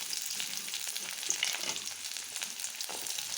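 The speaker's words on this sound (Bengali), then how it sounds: "কড়াইতে দিয়ে দিয়েছি অল্প করে তেল, দিয়ে দিলাম পেঁয়াজ" Sliced onions frying in a little oil in a kadai, a continuous close, bright sizzle with faint stirring scrapes running steadily throughout.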